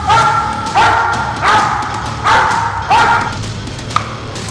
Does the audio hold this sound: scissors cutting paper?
no